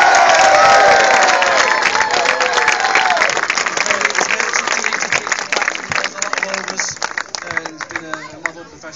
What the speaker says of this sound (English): I'd like a big round of applause for Francois.